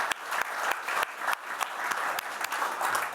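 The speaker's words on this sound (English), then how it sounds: "So big round of applause for them." Steady applause from a forum audience on anaerobic digestion, dense clapping that carries on evenly throughout with no voices over it.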